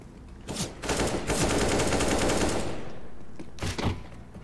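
Gunfire in the video game CS:GO: sustained automatic bursts crackle loudly across several seconds, with sharp individual shots at the start and end.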